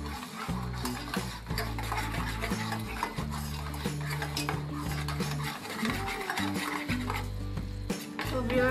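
Caramel cooking for a carrot pudding on a gas stove, with steady stirring scrapes and a soft sizzle from the pan, plus occasional utensil clinks against the pot over a continuous low hum.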